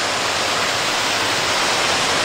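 A waterfall on a mountain trail at Mt Katahdin in Maine rushes in a continuous, even hiss of falling water, loud and close, with no voices.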